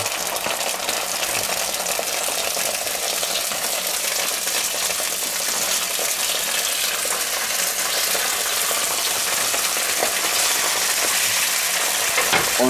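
Garlic steaks hit a hot pan and fry with a loud, steady sizzle and crackle that runs unbroken throughout, with no talking.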